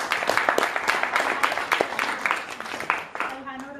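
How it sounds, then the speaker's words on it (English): Applause for Anusha at a Toastmasters session, light scattered clapping from a small group that continues steadily for several seconds and softens toward the end. "Can we have a round of applause for Anusha?"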